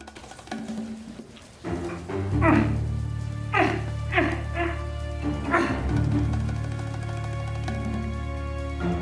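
Dogs bark and yip repeatedly at close range, several sharp bursts over a steady low hum, with some whimpering between barks.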